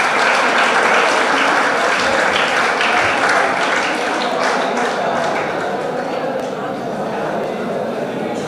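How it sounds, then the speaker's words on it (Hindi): A school prize ceremony audience claps for a top-ranked student, dense sustained applause from a crowd of children filling the room, with voices mixed in under the clapping. "इनके लिए ताली बजाइए।"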